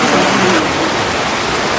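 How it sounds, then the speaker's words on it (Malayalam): Heavy rain pouring down outdoors while walking, a dense, loud, steady hiss of downpour with no gaps and no voices. "കിടിലം മഴയാണ്, കിടിലം മഴ."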